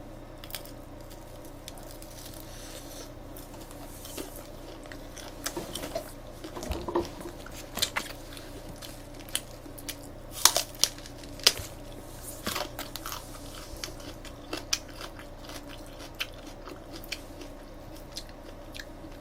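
Fried chicken with seasoned sauce and raw green onion being eaten, close, quiet bites and crunches with soft wet chewing scattered irregularly over a low background, with no talk.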